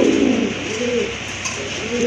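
A Super Mili pigeon coos in low, rolling phrases close by, repeating steadily over a constant background hiss.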